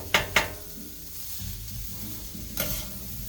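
Broccoli on a flat top griddle, a soft continuous sizzle with two quick metallic scrapes at the start and another near the end.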